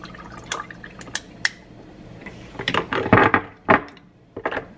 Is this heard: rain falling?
no